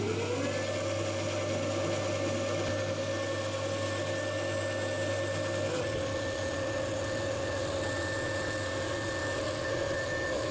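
Steady mechanical drone of a lathe turning a 17-4PH stainless steel powerlifting barbell at 800 RPM, a continuous even hum with a change in texture partway through, no talk.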